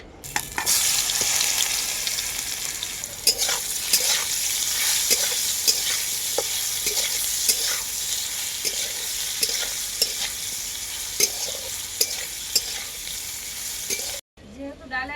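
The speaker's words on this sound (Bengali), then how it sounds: "হলুদটা দিয়ে মুলোটাকে ভালো করে ভেজে নেব" Boiled radish frying in a pan with panch phoron and dried red chillies, a continuous close sizzle punctuated by regular scraping stir strokes, ending with a brief pause.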